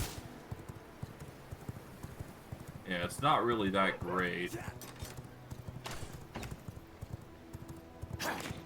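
Horse hooves clip-clop at a steady walking rhythm in the video game V Rising, running under a man's speech, with a brief snort or whinny near the end.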